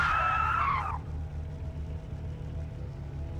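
A car skids under the e-brake in Forza Motorsport, giving a loud, wavering tire squeal for about the first second, then fading to a steady low engine rumble.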